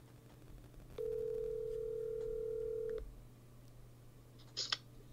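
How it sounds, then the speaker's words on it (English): A telephone tone sounds steadily for about two seconds over low background hum, followed by a brief burst of higher tones as a phone call is placed on a baseball broadcast. "I'm going to make a phone call, and you're going to hear it"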